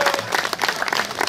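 Audience applause at an outdoor jazz concert in Końcewo, a dense crackle of many hands clapping steadily throughout, with a faint voice briefly audible beneath.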